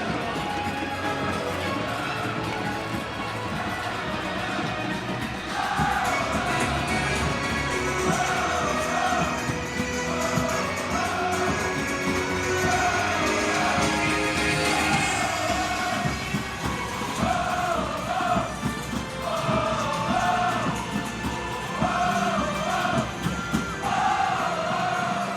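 A home football crowd at an FC Anyang match on a hot summer day claps and chants steadily and loudly as the players walk out, the cheering spread wide across the stadium.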